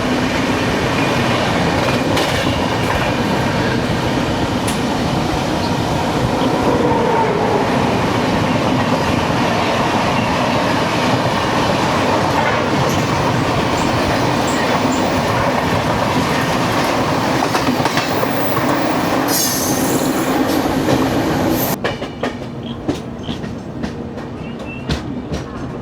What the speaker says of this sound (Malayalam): വേണാട് എക്സ്പ്രസ് പോകുന്നു.